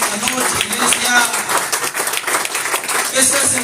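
A church congregation clapping as an offering of applause during an evening service, dense continuous hand claps filling the room at close range, with a voice carrying over the clapping.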